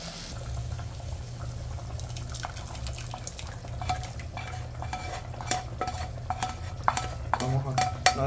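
Mashed beans stirred in a cooking pot in a home kitchen in Cuba, a soft, steady scraping and squelching with scattered spoon clinks against the pot, close and moderately quiet, without talk.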